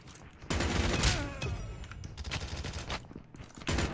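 Gunfire in the video game COD Mobile, bursts of rapid automatic shots in several clusters, loud and close, with short gaps between volleys.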